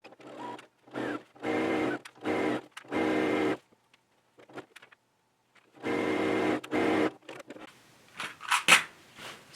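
A sewing machine stitches a skirt seam in short bursts of fast, whirring motor runs, several separate runs broken by pauses, with small clicks and handling noises near the end.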